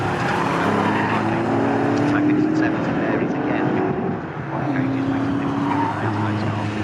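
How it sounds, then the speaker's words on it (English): Two Porsche Boxster race cars battle closely at Snetterton, their engines roaring loud and continuous with rising and falling pitch as they run toward a braking zone, while a commentator talks over them. "Those two Boxsters are really having a great ding-dong battle as they head down towards the braking area from Nelson"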